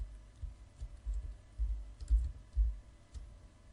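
Typing on a computer keyboard during a UiPath RPA developer lesson: a steady patter of soft, close key presses with a few heavier thumps, alone with no talking.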